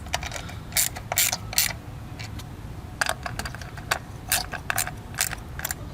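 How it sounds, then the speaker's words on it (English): Ratchet clicking in short bursts while snugging 10mm ignition coil bolts on a Toyota Corolla 2ZR-FE engine, close and crisp with brief pauses between runs. "And snug up each one of your 10mm bolts."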